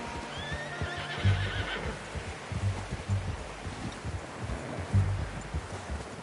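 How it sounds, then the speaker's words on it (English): Horse in the Red Dead Redemption 2 game: a whinny near the start, then steady clip-clop hoofbeats thudding in an uneven rhythm over soft wind and rustling outdoor ambience, moderately quiet, with no talk. "How's that new horse?"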